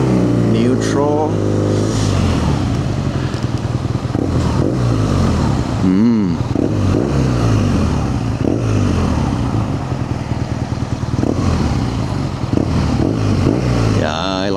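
A BMW R nineT Scrambler motorcycle engine idles in neutral and is revved, its loud, close exhaust note rising and falling steadily, with a voice talking over it.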